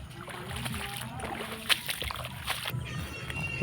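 A small fishing boat moves across water on a misty morning, with soft sloshing and splashing close by and occasional light knocks, fairly faint overall.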